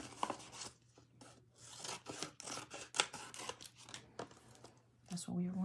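Scissors trim scraps of vinyl in a craft room, giving a quick series of crisp, close snips and rustles of the material over a low steady hum, with a voice murmuring at moments.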